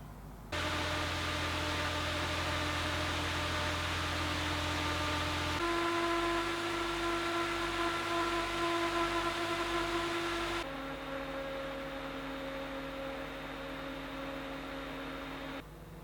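Corsair H100i liquid cooler with 240mm radiator fans running steadily up close, a broadband whoosh with a tonal hum whose pitch steps through three speed settings, each lasting several seconds.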